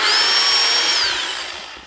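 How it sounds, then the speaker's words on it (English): An electric chainsaw running with bar and chain oil, a steady high motor whine that holds loud for about a second, then winds down and fades as the saw coasts to a stop, with no voices. "So what are you gonna do with your new chainsaw?"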